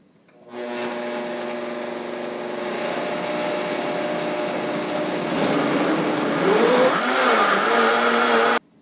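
A blender motor whirs steadily for several seconds blending a banana, blueberry, chia and flax seed smoothie, its pitch shifting and rising as the contents churn, then cuts off abruptly.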